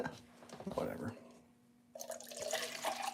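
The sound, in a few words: water running from a tap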